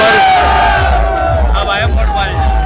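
A large crowd cheers and shouts at a Vijay Sankalp political rally, with a dense, loud roar of voices and whoops throughout, the leader riding atop a vehicle amid the throng.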